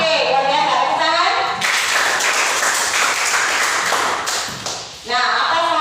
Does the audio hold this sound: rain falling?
no